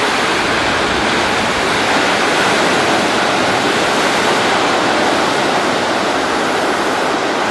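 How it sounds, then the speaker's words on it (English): Ocean waves wash ashore in a loud, continuous roar of surf heard close up, steady and unbroken with no voices over it. "I usually come out here and just sit down and just listen to the waves."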